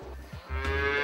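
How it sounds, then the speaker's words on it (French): Cattle in a dairy barn, a single close, deep moo rising and sustained over about a second, with no talking. "Regardez toutes ces vaches."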